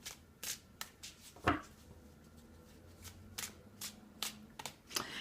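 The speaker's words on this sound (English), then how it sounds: "I'm going to continue the shuffle" Tarot cards being shuffled close up in a run of crisp riffling bursts and soft slaps, with a few short pauses between.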